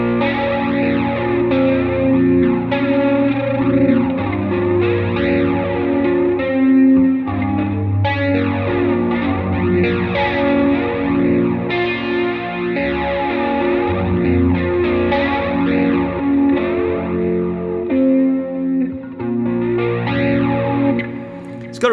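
A continuous stretch of electric guitar played through a Bias FX 2 Pro pop preset, strummed chords smeared into a lush chorus-and-echo wash with gentle grit and swirling modulation, steady and upfront with no speech.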